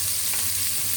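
Tomatoes go into a hot pan and are stirred, giving a brief, steady frying sizzle with soft stirring, close and moderately loud.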